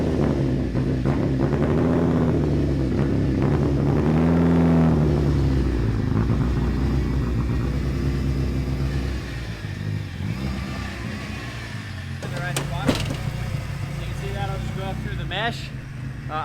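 A turbocharged Evo wagon drives along with a steady, rumbling engine drone that rises and falls under ongoing talk, and thin rising whistles from the spooling turbo appear near the end.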